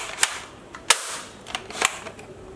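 A toy bullet gun fires a handful of sharp, irregular cracks, loud and up close, with quieter clicks and rattles in between and no voices.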